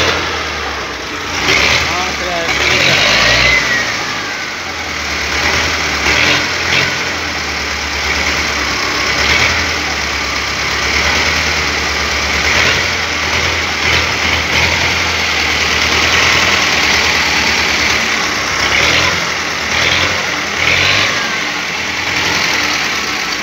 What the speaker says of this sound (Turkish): Traktör işlep durupdu.